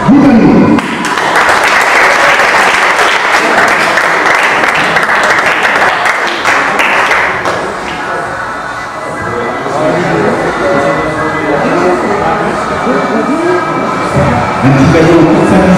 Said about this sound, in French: vous demandez de grands applaudissements quand même pour monsieur Goudanou